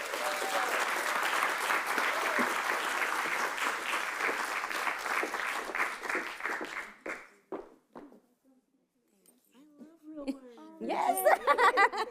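Award ceremony audience applauding honorees, with dense sustained clapping and scattered cheers for about seven seconds that then fades out and leaves some scattered voices.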